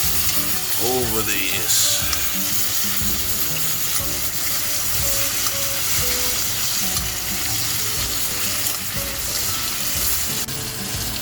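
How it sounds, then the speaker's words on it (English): A tomahawk steak sizzles loudly and steadily in a pan while it is basted with butter, garlic and rosemary, the frying crackle constant throughout with a brief voice and a few clinks over it. "take this and baste it all"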